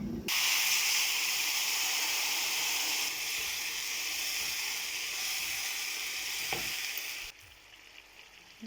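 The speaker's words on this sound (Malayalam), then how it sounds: "അപ്പോൾ നമ്മുടെ ഈ മൂത്ത മസാല കൂട്ടിലേക്ക് നമുക്ക് കുറച്ച് ചൂടുവെള്ളം ഒഴിക്കാം." Hot boiling water poured into frying masala for pork pickle, a sudden loud hiss and sizzle that holds steady for several seconds before cutting off abruptly.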